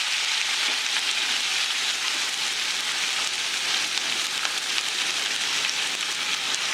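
Chopped onion dropped into hot oil already crackling with cumin and mustard seeds gives a steady, dense sizzle that holds close and even throughout, with no voices over it.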